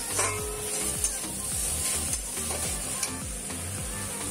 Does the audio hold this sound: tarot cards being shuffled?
no